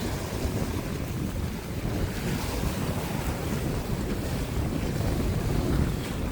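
Strong wind and Atlantic Ocean surf roar together from a boat while fishing for mackerel, a dense, steady rush with gusting swells and buffeting on the microphone, loud and unbroken, with no voices.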